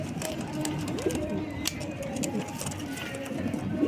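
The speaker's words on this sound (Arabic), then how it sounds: "تراكي طيور حلوة ما شاء الله" Arafil and Shamli pigeons coo softly in a loft, with low throaty calls and wing flutters under someone speaking nearby.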